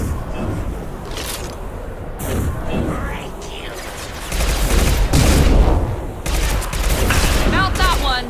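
Rapid gunfire and impacts crackle through a Mass Effect 2 firefight, with bursts of shots, booms and mechanical clatter layered over steady background noise.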